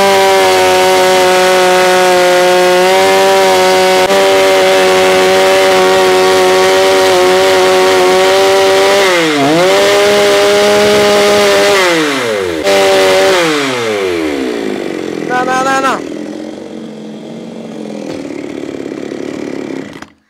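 A chainsaw cuts a tree growing inside a century-old round stone well, the engine droning loudly at steady pitch, then bogging and revving in swoops as the chain bites, before dropping to a lower idle near the end.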